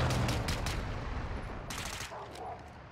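Machine gun fire in Call of Duty Modern Warfare 2, played on Xbox Series X, comes as a dense, steady burst of shots in the first second, then fades into a softer, scattered rattle of distant gunfire.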